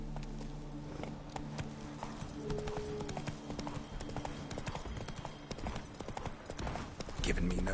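Horse hooves clip-clop at a steady gallop in The Witcher 3, a continuous rhythmic pounding under game music and ambience.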